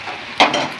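Spices with turmeric powder are stir-fried in a pan, a short burst of sizzle and scraping as the mixture is moved, brief and fairly close.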